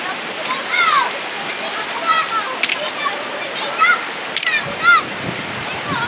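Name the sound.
strong river current, Majayjay river in Laguna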